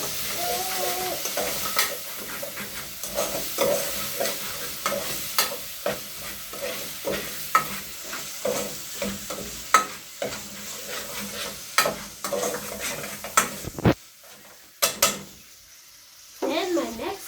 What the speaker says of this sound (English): Then I'm gonna stir it again.